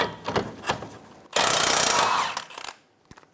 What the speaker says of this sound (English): Using a 24mm socket, remove the front nut for the control arm.